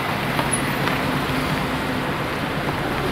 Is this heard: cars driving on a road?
yes